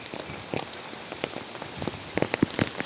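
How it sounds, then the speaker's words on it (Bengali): Heavy rain falls in a village in the Sonagazi area, a close, steady hiss broken by louder drops and patters striking nearby surfaces, and it grows busier toward the end. No voices. "আজকে সকাল হতে বৃষ্টি, অনেক বৃষ্টি হইতেছে"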